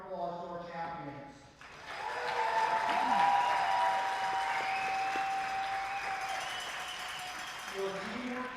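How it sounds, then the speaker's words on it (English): Audience at the Curling Alberta women's championship final applauds the champions, starting after a brief spoken line and swelling into sustained clapping from a crowd, mid-distance and steady. "let's give another huge round of applause to our champions."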